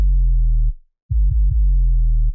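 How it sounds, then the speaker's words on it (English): A deep 808 sub bass in an electronic dance drop booms in long sustained hits, one cut off by a brief silence and then several quick retriggered thumps before holding again, loud and alone. "The sub is going to be an 808 instead of an actual traditional sub this time"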